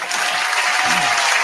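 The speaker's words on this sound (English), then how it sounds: "Applaud that." A brief, loud burst of crowd applause from a battle rap audience, dense and continuous clapping over a short stretch.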